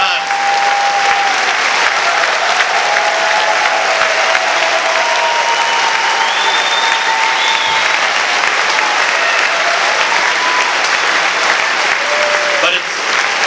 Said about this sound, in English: we should all give a round of applause to a real investigative reporter